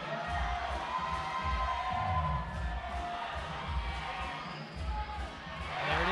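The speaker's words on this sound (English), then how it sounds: "the crowd's getting behind Austin" A crowd cheering and shouting at the USA Climbing National Cup bouldering event, a steady roar of spectator noise, with a commentator talking over it.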